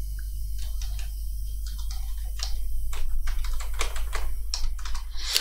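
Rapid typing on a computer keyboard, a steady run of close, crisp key clicks at an irregular rhythm, heard alone over a low electrical hum.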